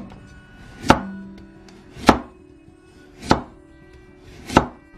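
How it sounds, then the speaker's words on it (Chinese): A knife slices half a carrot into rounds on a cutting board, making four crisp, evenly spaced chops close by with quiet pauses between them. "把胡萝卜我们先给它切成片"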